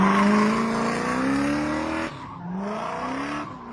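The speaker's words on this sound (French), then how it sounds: "Il emprunte un chemin non bitumé. Le gardien s'enfonce. Daju arrive à doubler Monsieur Yavan" A car engine revs hard as one car overtakes another on an unpaved road in a film scene, loud and close, with climbing engine pitch that dips briefly and then rises again.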